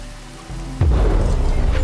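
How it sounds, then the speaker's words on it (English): Thunder and rain in the video game Against the Storm: quiet at first, then a sudden loud crack of thunder that rolls into a dense, steady downpour, with no one speaking. "Like the sound of thunder, but it's not storm anymore."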